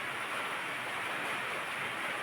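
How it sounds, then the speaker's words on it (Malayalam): Heavy rain falling as a steady, dense hiss with no breaks, fairly quiet and even from start to finish. "നല്ല മഴ"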